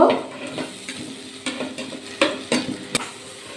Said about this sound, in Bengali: আলু দিয়ে আবার কিন্তু এক দু মিনিট কিন্তু ভালো করে কষিয়ে নিলাম